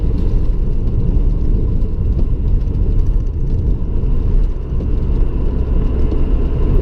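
A car accelerates steadily on a dual carriageway, its engine note a continuous loud rumble close by with road and wind noise, no pauses.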